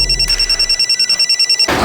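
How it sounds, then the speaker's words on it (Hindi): Telephone bell rings in a rapid rhythmic trill of steady repeated pulses, loud and close, the call going unanswered before the ringing cuts off. "तेजस्विनी फोन नहीं उठा रही है।"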